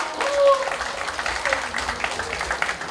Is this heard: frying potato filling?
no